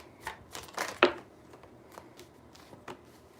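Tarot cards are shuffled by hand in several short, crisp riffling bursts, close up with no talking.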